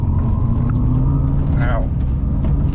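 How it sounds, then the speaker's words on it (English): A 2022 GMC Hummer EV electric truck accelerating on throttle for the first time: a steady low road and cabin rumble fills the whole stretch, with a brief rising whine partway through. "We're gonna go on throttle in this Hummer EV truck."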